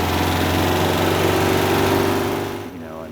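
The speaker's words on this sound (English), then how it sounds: "Revving the engine, it's got a real nice sort of a throaty V-dub sound." A 1972 Porsche 914 mid-engine with glass pack exhaust drones loud and steady close by, a throaty, buzzing tone held for most of the moment before it eases off and drops away at the end.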